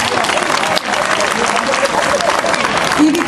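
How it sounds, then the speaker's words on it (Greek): A festival audience at a Tsitsanis centenary finale gives dense, continuous applause, loud and close throughout, with a voice briefly audible over the clapping. "Ένα χειροκρότημα."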